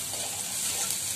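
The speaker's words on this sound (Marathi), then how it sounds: "आलं लसूण मिरचीची पेस्ट आणि कांदा आता आपण फ्राय करणार आहोत." Onion frying with fenugreek, ginger-garlic-chili paste and curry leaves gives off a steady, close sizzle with soft crackling and no voices.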